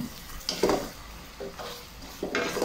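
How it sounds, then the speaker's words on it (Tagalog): Chicken feet adobo being stirred in a pot with a spoon, close up: a few scraping, clattering strokes against the pot over a soft bubbling simmer, spaced roughly a second apart. "So haluin lang natin yan."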